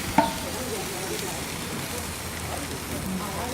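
A whole snapper fish sits on a grill and gives off a steady, moderate sizzle and crackle throughout, with a voice speaking over it.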